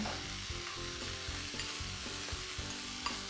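Steamed vegetables stirred back into a hot frying pan, giving a continuous close sizzle with repeated rhythmic scraping and stirring strokes throughout, no voices.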